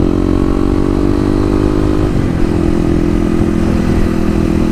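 A Kawasaki KLX250 motorcycle engine idles loud and close with a steady, throbbing drone. Its pitch drops briefly halfway through and then settles lower, with no voices present.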